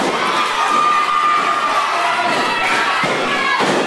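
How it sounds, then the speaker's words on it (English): A lively crowd cheers and shouts without pause at an independent wrestling show, loud and close, with a few thuds and slams breaking through the roar. "One of the liveliest crowds I've seen since I've been here."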